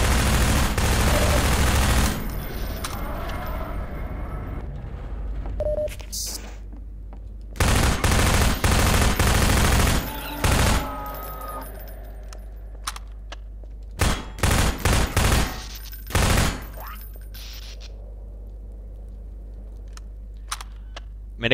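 Gunfire from a gun in Half-Life 2, heard as several loud bursts of rapid shots broken by quieter gaps and a few short, sharp single reports.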